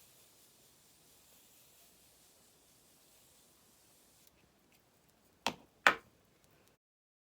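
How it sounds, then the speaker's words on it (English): Two short, sharp spritzes of Morphe Extra Freestyle setting spray misted onto a face in a quiet room, loud and close, about half a second apart, after several seconds of low background hiss. "I'm going to be using the Morphe Extra Freestyle Setting Spray"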